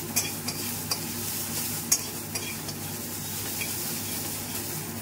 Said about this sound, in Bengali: গাজর আর বিনস একটু নাড়িয়ে নিচ্ছি।